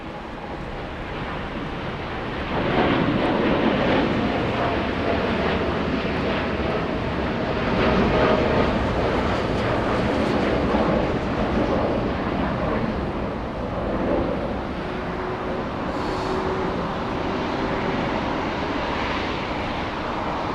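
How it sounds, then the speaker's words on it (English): A Boeing 787-9 Dreamliner departs Los Angeles International Airport for London Heathrow, its broad engine roar rising after a couple of seconds and holding loud and steady, with faint whining tones drifting through. "here comes the Dreamliner flying all the way to London"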